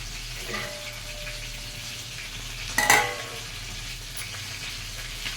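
Fish pieces in curry stirred in a pan give a steady soft sizzle and bubbling, with one brief louder scrape or clatter of the spoon against the pan midway.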